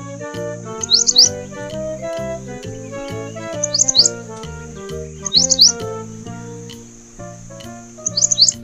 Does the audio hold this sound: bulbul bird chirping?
yes